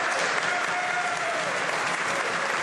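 Members in the House of Commons break into loud, sustained applause, a thick, uniform roar of clapping close at hand that holds steady for nearly three seconds.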